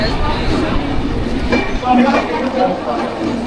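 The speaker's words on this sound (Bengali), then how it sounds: "ট্রেন এখন ঢুকেছে জেসিডি স্টেশনে," A train pulls into Jasidih junction station, a steady loud rumble with faint clatter of the carriages, while voices chatter nearby throughout.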